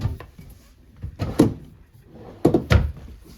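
A drawer slides open and shut inside a 2018 Forest River Crusader 341RST fifth-wheel RV, with a few soft wooden knocks and thuds scattered over a few seconds. Close and moderately loud, with no speech.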